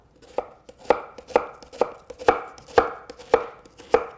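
Knife chopping an onion on a cutting board: about eight steady, evenly spaced cuts landing close and crisp, each with a short thud and clatter, with no talking.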